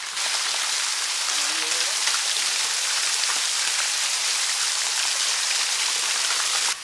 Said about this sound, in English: Raikal Waterfalls.